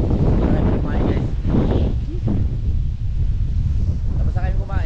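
Heavy wind on Daku Island, Siargao, buffets the microphone throughout, a constant low roar with faint voices underneath.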